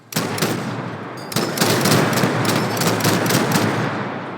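Twin-linked Mark 22 autocannons pound away in MENACE, a dense, sustained barrage of rapid heavy shots that starts hard, pauses briefly, then resumes louder and continuous for several seconds, with no talk over it.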